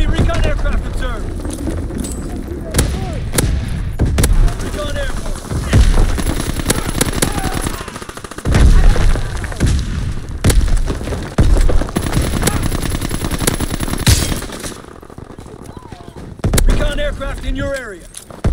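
Bombs and artillery shells explode in a Battlefield-style shooter, heavy booms and bursts of gunfire striking repeatedly and loudly, with voices in the game heard between the blasts.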